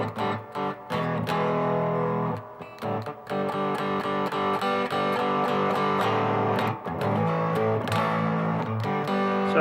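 Electric guitar played through an Angry Mob, a basic straight-up distortion pedal, from an American Deluxe Fender Strat into a Princeton Reverb clone amp; dense, sustained overdriven chords ring loud and steady with brief gaps between strums.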